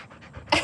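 Pit bull terrier mix puppy panting up close, quick rhythmic breaths that grow louder and harsher toward the end of a brief burst.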